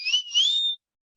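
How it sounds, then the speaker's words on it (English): A person whistles a short bright tune of two rising phrases during an online class meeting, close and clear, lasting under a second before silence. "I love that whistle."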